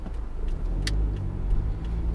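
A car driving on a road during a food delivery run, a low steady engine and tire rumble from inside the cabin with a few faint clicks and one brief sharper tick, no talking.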